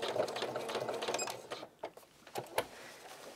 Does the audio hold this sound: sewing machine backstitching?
yes